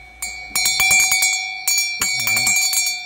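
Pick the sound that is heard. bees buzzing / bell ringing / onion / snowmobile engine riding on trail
bell ringing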